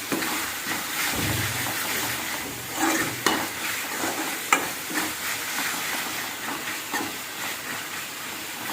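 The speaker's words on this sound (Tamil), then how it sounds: "இஞ்சி பூண்டு நல்லா வதங்கிடுச்சு" Ginger and garlic paste sautéing in a pan for an egg roast, giving a steady close sizzle with repeated scraping stirs and a few sharper clinks of the spoon against the pan.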